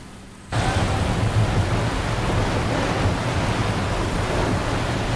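Heavy rain pours down in a dense, steady roar that starts abruptly and stays loud and close throughout, with no voices over it.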